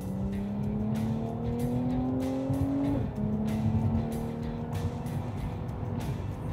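Mercedes-AMG C 43 4Matic sedan accelerating hard in Sport Plus mode, its engine note rising steadily from inside the car, with a brief dip as it shifts gear around the midpoint before climbing again under a constant road roar.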